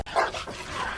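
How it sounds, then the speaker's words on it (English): Several dogs barking and yelping close by in a short, loud burst during a police call in a residential neighbourhood. "followed out shortly after by two other dogs"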